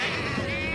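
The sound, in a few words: sheep bleating in a cartoon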